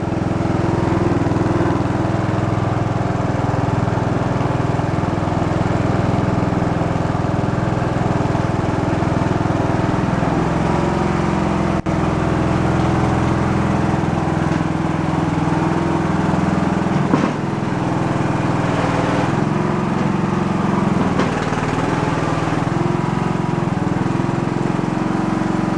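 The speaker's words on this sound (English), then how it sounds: "It's quiet, it's not moaning a lot. The mower deck, again, there's no blades on it." Riding lawn tractor engine running steadily with its mower deck fitted but no blades, a loud, close, continuous drone with a faint clunk or two and no talking.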